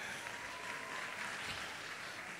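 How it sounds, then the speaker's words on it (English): An audience at a high school anniversary conference applauding: a dense, steady wash of clapping that holds evenly throughout, with no speech over it. "Come on, clap yourselves for being"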